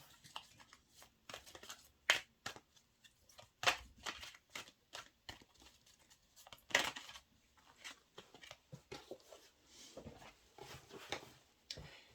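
Tarot cards being shuffled by hand: quiet, close riffles and soft slaps that come in irregular bursts with short pauses, some sharper snaps among them, and no talk.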